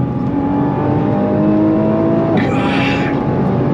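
Nissan GT-R launched from first gear at full throttle, its engine note climbing steadily in pitch as it pulls hard, close and loud, with a brief shift-like change near the end.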